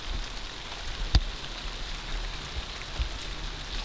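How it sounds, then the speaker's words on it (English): Steady rain patters outside a gutted 1970s truck camper under renovation, a broad even hiss with scattered louder drops and one sharp knock near the middle, fairly close and with no voices. "Well, it's raining."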